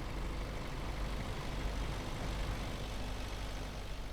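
A farm tractor running on biomethane fuel hums and rumbles at a steady idle, a continuous low drone heard from a distance with no pauses.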